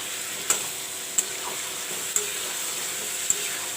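Masala fries with red pumpkin in a pan, a continuous close sizzle punctuated by four sharp ticks of a spatula against the pan, no voices.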